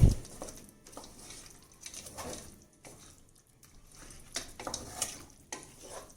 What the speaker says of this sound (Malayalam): നന്നായിട്ടൊന്ന് ഇളക്കി ചേർക്കണേ